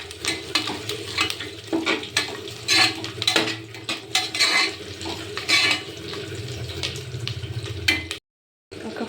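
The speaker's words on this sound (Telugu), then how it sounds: "పచ్చిమిర్చి వేసి కలుపుకోవాలి." Green chillies being stirred into a frying pan with onions: a busy run of spatula scrapes over a sizzling, watery hiss, fairly loud and close, then a brief cut to silence near the end.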